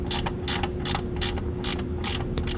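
A hand ratchet tightens a bolt on the front strut of a second-generation Lexus IS350, with a steady run of loud, close clicking strokes repeating evenly and no voices.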